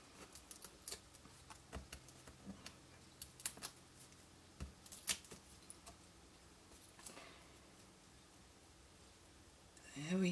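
Scissors trim the edges of cardstock letters for a rainbow treat box, producing faint, quiet snips and clicks scattered irregularly over a low background hiss.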